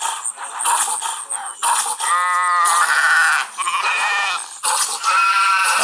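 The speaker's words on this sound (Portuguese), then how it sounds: "as ovelhas estão passando sarrafo aqui" Sheep in the video game The Wolf bleat loudly and repeatedly over one another, long wavering cries filling most of the stretch with only brief gaps between them.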